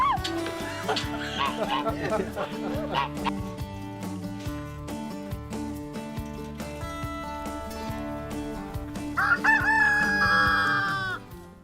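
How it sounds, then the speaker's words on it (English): A farm rooster lets out a loud crow near the end, following steady tonal background sound that runs throughout. "So I see you have a chicken in front of you."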